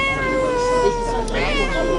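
A cat gives one drawn-out, tonal meow, close and clear, with faint voices around it.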